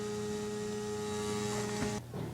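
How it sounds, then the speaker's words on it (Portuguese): Small electric fan from an Arduino smart home IoT kit whirring steadily with a constant motor hum, close by, then cutting off near the end, leaving a brief quieter tail. "Temos aqui o nosso ventilador funcionando."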